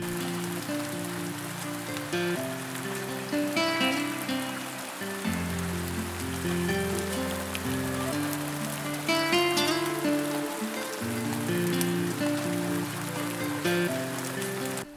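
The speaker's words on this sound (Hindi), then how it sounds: "शुई बहुत देर तक वहीं इसी तरह बारिश में खड़ी रहती है।" Steady rain pours continuously for fifteen seconds, a dense even patter blended under soft melodic background music.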